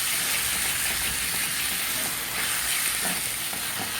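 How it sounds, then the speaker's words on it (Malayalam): Quail roast with onions and spices stirred in a hot pan, a steady close sizzle with soft scraping stirs throughout, no voices. "അതൊന്ന് ഇളക്കി കൊടുക്കുക."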